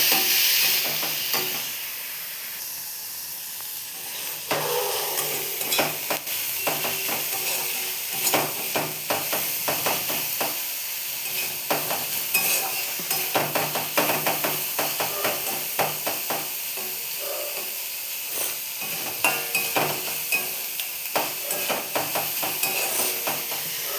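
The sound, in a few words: frying and stirring ingredients in a pan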